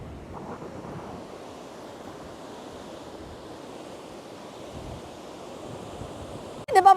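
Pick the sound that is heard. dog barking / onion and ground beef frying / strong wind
strong wind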